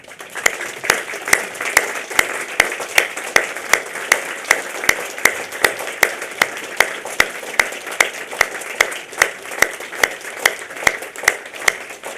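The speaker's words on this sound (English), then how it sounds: "a last round of applause for our diplomats, please" Graduation ceremony audience applauding diplomats, a sustained even round of clapping with one sharp, regular clap standing out near the microphone throughout.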